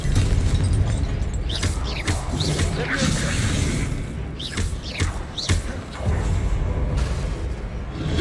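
A Confringo spell explosion in Hogwarts Legacy lands as a string of booming, thudding blasts with sharp cracks at irregular intervals, loud and close in a busy game fight.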